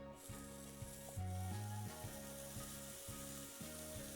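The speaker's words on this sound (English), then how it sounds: "Start cooking that bacon down very nicely." Bacon lardons sizzling in a hot pan, a steady soft hiss of frying fat running throughout, faint and even, with low tonal hum patterns underneath and no voices.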